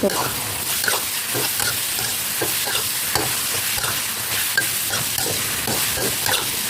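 Minced pork stir-frying for Thai holy basil pork, a close sizzle broken by repeated scraping and clattering strokes of a spatula against the pan in an uneven rhythm, with no talk over it.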